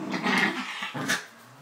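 A Yorkie, Poodle and Pomeranian mix dog gives a couple of rough, breathy growling vocalizations in short bursts, close by, without clear sharp barks.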